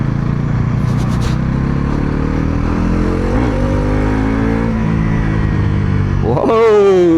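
Bajaj Pulsar NS400Z naked street motorcycle engine revving, harmonic tones climbing and falling between shifts, loud and close, ending with a sharp rising rev.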